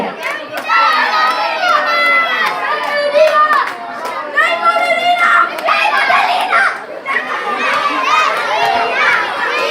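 A crowd of children cheers and shouts loudly at a quiz event at a book fair in Cankarjev dom, Ljubljana, excited voices overlapping continuously in a lively indoor din.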